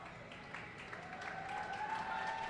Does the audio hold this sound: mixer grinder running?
no